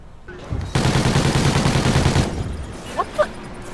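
Rapid burst of video game gunfire, a loud dense volley lasting about a second and a half, followed by a couple of short, sharp sounds afterward. Players talk over the game.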